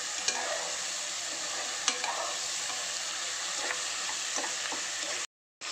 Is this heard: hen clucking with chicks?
no